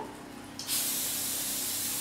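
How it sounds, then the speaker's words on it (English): Cooking spray hisses into a frying pan while a beef tortilla stack is being made, a sudden steady aerosol burst starting after a brief quiet moment and holding loud and close to the end. "some cooking spray probably would be good"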